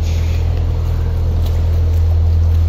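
A party boat's engine drones loudly and steadily nearby on a river, a constant low hum with no voices.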